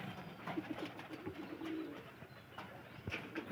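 Two pigeons coo softly nearby, low throaty calls rising and falling a few times against a quiet outdoor background with faint scattered knocks.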